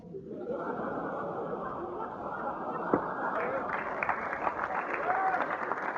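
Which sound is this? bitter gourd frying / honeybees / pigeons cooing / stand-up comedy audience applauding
stand-up comedy audience applauding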